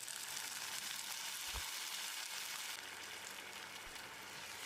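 Tamarind water poured into a pan of well-sautéed onions for a Tamil pepper gravy, giving a loud, steady broadband sizzle throughout with a couple of brief low knocks from the pan.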